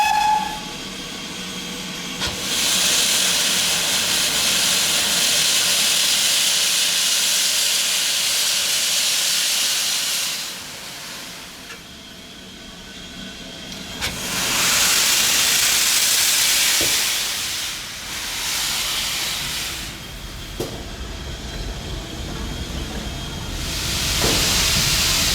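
Loud, steady steam hissing in long bursts, with a steam locomotive's chuffing and rumble between them as the engine moves off shed, close by.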